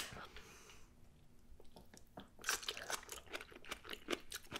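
Crunchy bites and chewing of spicy fermented kimchi at a breakfast-burger meal, close and quiet, with a run of crisp, irregular crunches that grows denser toward the end.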